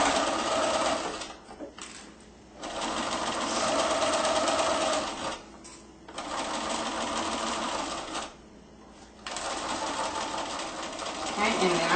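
Domestic sewing machine stitching the armhole seam of a reversible A-line dress, running in steady whirring bursts with short pauses between them as the fabric is turned.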